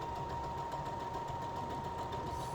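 Sewing machine joining fabric pieces for a scented hot mat, a steady close motor hum with an even rapid stitching pulse running throughout at low volume.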